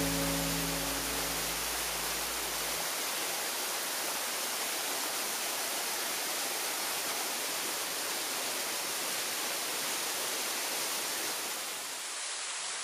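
The tiered waterfall at Mae Kampong, Thailand, in the rainy season roars loud and steady from start to finish, a dense close wash of falling water with a low rumble in the first few seconds.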